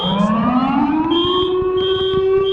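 A loud wailing alarm siren in the Backrooms video game rises steadily in pitch, continuous and close, with a high electronic tone layered on top.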